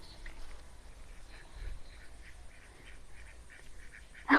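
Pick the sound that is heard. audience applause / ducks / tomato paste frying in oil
ducks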